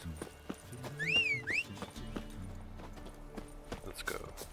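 Horse hooves clip-clop in The Witcher 3 video game as Roach approaches, a rhythmic run of hoof hits mixed with game music and a brief high whinny-like tone, under a voice talking.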